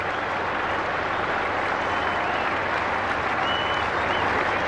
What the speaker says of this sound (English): listen to the crowd, their appreciation of such a great innings